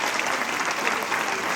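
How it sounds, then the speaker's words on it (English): Steady, dense applause from an audience at a high school honors choir summer session, a full room clapping continuously at close range without a break. "Clap for that."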